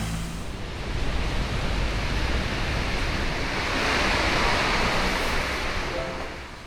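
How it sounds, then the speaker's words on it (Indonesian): Heavy rain pours down in a dense, unbroken hiss, loud and close, swelling slightly midway with no voices heard. "Cuma hujannya masih deras banget."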